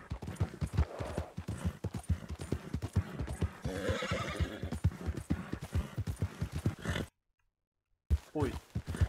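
A horse in Red Dead Redemption II, in a RedM roleplay session, trots with loud, rhythmic hooves and close neighs, cut by a sudden second of silence before the hoofbeats resume.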